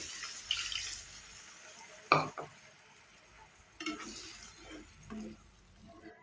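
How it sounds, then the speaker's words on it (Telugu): Water splashes into a pan of potato curry in a few short bursts, with quiet stirring and faint sizzling between them. "కొద్దిగా వాటర్ కూడా పోసుకోవాలి"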